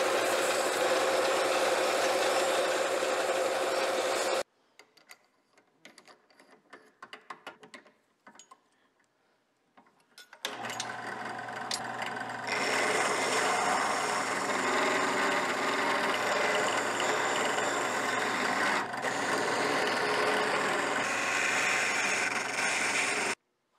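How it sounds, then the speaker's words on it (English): Power sander working a dried part for a camera slider, rounding its corners: a loud steady whirring drone, a quieter pause with light handling noise, then the sander runs again continuously. "I'm going to go ahead and sand it up and get all the corners rounded out."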